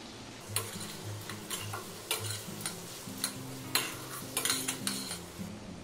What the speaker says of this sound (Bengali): মশলাটা ভালো করে কষে নেব যতক্ষণ না কাঁচা গন্ধ যাচ্ছে